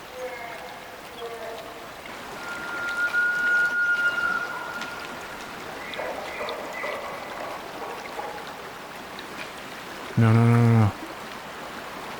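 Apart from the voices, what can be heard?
running water of a stream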